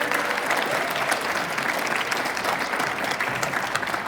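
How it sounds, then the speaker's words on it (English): An audience at a ward aldermanic candidates forum gives a round of applause: steady, dense clapping at even strength from start to finish, heard alone without talk. "So please give me a round of applause to introduce Matthew Ruffi."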